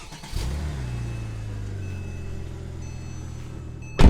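A Porsche 997 Turbo engine revs up on a dyno, a sustained loud drone with a low rising tone holding steady for several seconds before a sharp burst near the end.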